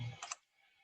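A computer mouse gives a couple of quick, faint clicks close by in a quiet room, over a short burst of soft low noise.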